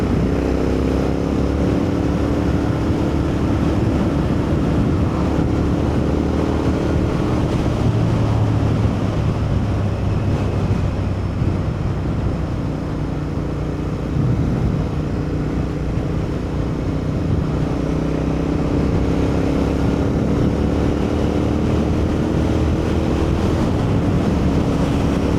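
Royal Enfield Interceptor 650 ridden along back lanes around Barnsley, a steady engine drone with shifting tones as it changes speed, under constant loud wind rush throughout.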